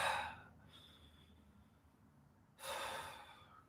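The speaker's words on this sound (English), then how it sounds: "Breathe from your belly." Deep belly breathing, close and quiet: a breathy inhale at the start, a soft lull, then another strong airy breath near the end.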